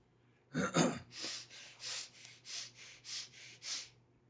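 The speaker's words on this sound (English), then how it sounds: "you start the long, deep and the hissing breath into your rib cage" A long, deep hissing breath drawn into the rib cage during a meditation exercise, starting with a sharp gasping inhale, then a series of eight soft rhythmic hissing pulses, close and quiet with no talk.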